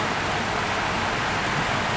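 Rain falls in a video game as an even, unbroken hiss of drops, steady and fairly loud throughout.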